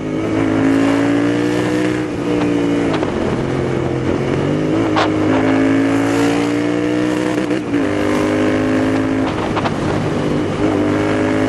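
A Royal Enfield Interceptor 650 motorcycle under way, its parallel-twin engine loud and close with steady droning harmonics that rise and fall through several throttle changes and gear shifts over about eleven seconds, with no talk.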